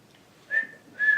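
A person whistles two short, clear, sustained notes of a tune, close and alone against a quiet background.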